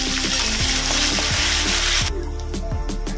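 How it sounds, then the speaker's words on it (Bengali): Chopped onion frying in hot oil left from frying fish, with whole garam masala and bay leaf: a steady, loud close sizzle with rhythmic scraping stirs of a spatula against the pan, and no talk. "পেঁয়াজটা ভালো করে ভেজে নেব।"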